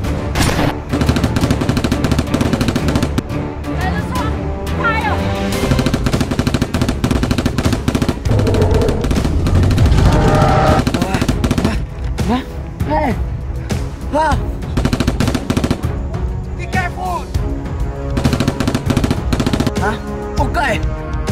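Rapid gunfire rattles through a loud action dinosaur film scene, dense repeated bursts of shots with booms and impacts over a roaring score, while voices shout amid the chaos.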